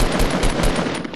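Rapid automatic gunfire rattles in the Fortnite battle royale video game, a loud, close, unbroken burst of shots lasting just over a second.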